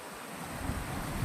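Cold mountain stream water flows at Harishchandragad, a soft, continuous rushing close to the microphone, partly buffeted by wind noise that swells toward the end.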